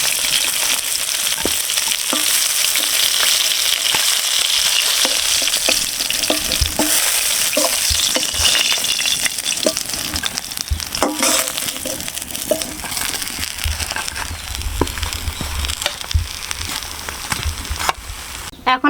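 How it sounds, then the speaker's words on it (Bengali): Kalibaus fish pieces frying in hot oil for a homestyle fish curry, a steady dense sizzle running throughout with occasional stirring scrapes and spatter pops, close and fairly loud. "আমি মাছগুলো এই যে লাল লাল করে সুন্দর করে ভেজে নিয়েছি"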